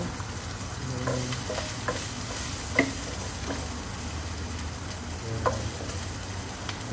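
Garlic sizzles and fries steadily in a pan for a Filipino sinabawang bangus dish, a continuous close crackle with a few light clinks of a utensil, and no talking.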